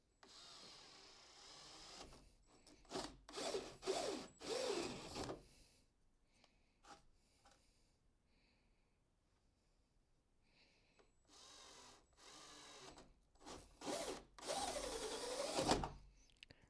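A power drill bores holes into a plastic portable toilet tank, in several loud whining bursts of one to three seconds separated by quiet gaps and soft handling noises, close up with no talking.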